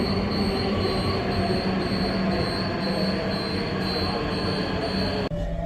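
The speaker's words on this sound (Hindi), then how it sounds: "मेरठ साउथ जाने वाली मेट्रो।" At an elevated station platform, a Meerut metro train bound for Meerut South rolls in with a loud, steady rumble and a thin, sustained wheel squeal, ending in an abrupt clunk.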